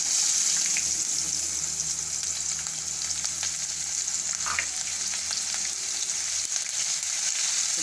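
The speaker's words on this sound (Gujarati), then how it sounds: "ડુંગળીને આપણે થોડીક તેલમાં સરસ ચડવા દેવું" Onion and asafoetida sizzle steadily in hot oil alongside cumin, making a continuous loud frying hiss with occasional faint clinks and stirring; no one speaks.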